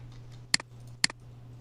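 Two crisp mouse clicks on the divide icon in Mastercam, about half a second apart, close and distinct over a low steady electrical hum.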